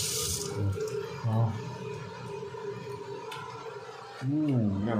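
Tap water runs steadily into a sink while grapes are washed, a continuous rushing stream in a kitchen, with someone talking over it.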